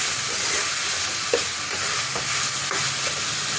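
Dhenki greens frying gently in a pan over low gas with a pinch of sugar, a steady close sizzle broken by a few soft clinks and scrapes of stirring, no voices.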